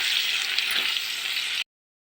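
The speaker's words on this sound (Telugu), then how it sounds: "ఇవి కొంచెం వేయించుకోవాలి మంచిగాను" Okra and tamarind skin fry in a pan with a steady, close hiss of sizzling oil that runs evenly and then cuts off abruptly.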